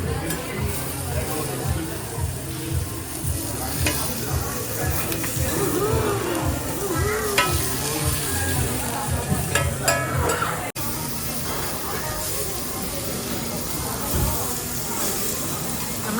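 Beef sausage sizzles steadily while cooking live at a Korean-style food spot in Chennai, a constant loud hiss with stirring sounds and voices talking over it throughout.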